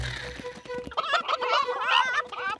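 Cartoon chickens squawk and gobble in a quick, warbling burst, close and fairly loud, with no speech.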